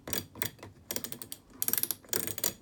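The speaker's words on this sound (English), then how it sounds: "Another thing, this dial doesn't sound very good," The dial of a Samsung Quick Drive WW90M645OPO washing machine, faulty, gives rough ratcheting clicks as it turns, in short bursts with brief pauses, quiet and close with no talking.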